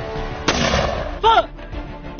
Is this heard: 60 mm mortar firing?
yes